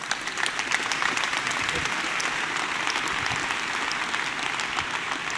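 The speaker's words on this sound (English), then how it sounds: "You guys all owe yourself a round of applause for such great artwork." Keynote audience at a JBoss Red Hat conference applauding, a continuous even roar of many hands clapping throughout, moderately distant and with no talking over it.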